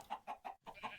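Chickens in the video game Minecraft give quick clucks, about five short bursts in a row with a tiny gap, faint and alone.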